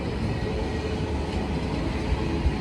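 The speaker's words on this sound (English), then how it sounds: "Ooh, the Thalys train, 1 second." A Thalys high-speed train passes slowly through a quiet railway tunnel station, giving a steady low rumble with faint rhythmic thumps near the end and no talking.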